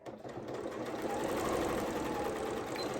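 A sewing machine stitches a seam along the top of a fabric gift bag, a fast, even mechanical whirr running continuously and close by with no talk.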